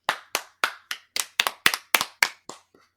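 About a dozen sharp hand claps, close and evenly spaced in a quick steady rhythm, with short gaps of silence between them and no talking.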